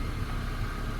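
A 1988 Honda CRX Si engine idles steadily at about 1,000 rpm with the headlights and rear defroster switched on, a continuous low hum with no speech over it.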